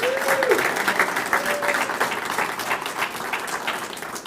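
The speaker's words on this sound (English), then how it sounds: "let's give all of our speakers another round of applause" Audience applause rings out for the speakers at an IT and cybersecurity center ribbon cutting ceremony, steady dense clapping from a sizable crowd that holds evenly throughout, with a faint whistle near the start.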